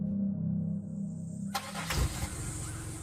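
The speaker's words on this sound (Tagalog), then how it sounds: "Parang naririnig ko po may nag-start ng sasakyan" A car engine starts as a sound effect in a Filipino horror audio drama, a sudden cranking catch that settles into a steady running rumble after a low hum, with no voices.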